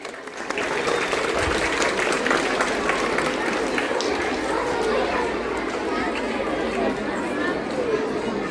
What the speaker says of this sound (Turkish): Güçlü bir alkış alalım.